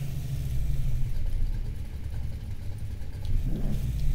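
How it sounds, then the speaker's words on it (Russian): Car engine and exhaust in the Need for Speed Heat racing game, a steady loud low rumble throughout that swells into a brief rev near the end. "О, звук выхлопа, ребята."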